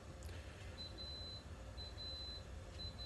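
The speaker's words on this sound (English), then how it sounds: "There's a beep, dear. Rice cooker." A rice cooker gives faint, thin electronic beeps repeating in short bursts over a steady background hum, the tone sounding in three separate spells.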